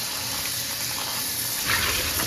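Tap water runs over chili peppers being rinsed to wash off dirt in a home kitchen, a steady close hiss of flowing water that grows into a slightly louder splash toward the end.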